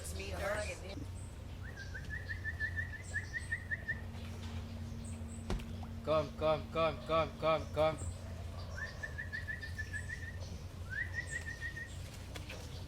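Several birds call along the Black River, the black-crowned night heron among them: thin whistled notes come and go, and a burst of loud, evenly spaced squawks sounds close by. A low steady hum runs underneath, and a person speaks briefly.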